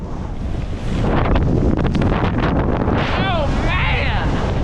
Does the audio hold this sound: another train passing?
no